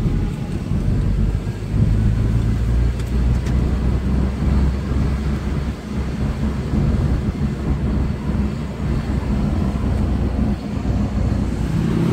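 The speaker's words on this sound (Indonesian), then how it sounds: "Untuk itu kami mempercepat laju kendaraan." A police patrol vehicle speeds up along a city road in Semarang, its engine giving a loud, steady low rumble with road and wind noise throughout, close and continuous, with no talking over it.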